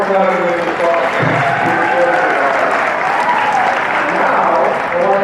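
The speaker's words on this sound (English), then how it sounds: "So all of them, give them a round of applause." Audience applause at a Medford High School senior class event, steady clapping from a crowd in a hall, with voices talking over it throughout.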